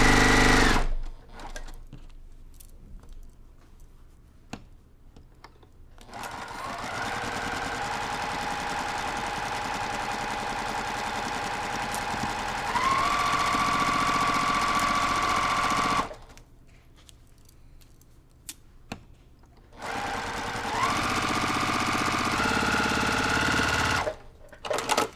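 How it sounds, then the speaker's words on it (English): A sewing machine stitches a quarter-inch quilting seam at a short stitch length, running in steady sustained bursts with brief quiet pauses between them, close and clear with no talking. "I'm going to stitch 1/4 inch seam"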